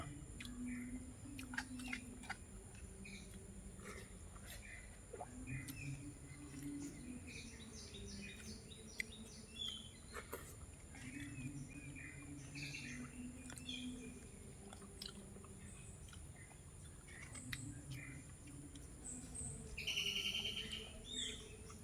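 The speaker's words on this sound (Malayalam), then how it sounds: "കിളികളുടെ ശബ്ദം കേട്ടോ" Birds call in a garden, with scattered soft chirps and tweets that sound fairly distant over a quiet outdoor background, and a faint voice now and then.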